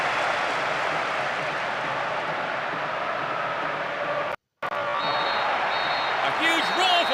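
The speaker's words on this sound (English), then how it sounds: "A huge roar from the crowd as the referee blows the final whistle" A stadium crowd roars steadily at the final whistle of a football match in PES 6, a dense continuous wash of cheering with a brief dropout near the end and faint commentary.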